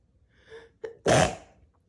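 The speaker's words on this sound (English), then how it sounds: "I'm gonna sneeze." One person sneezes, with two quick indrawn breaths before a single loud, sharp burst that trails off into a breathy exhale, close and alone.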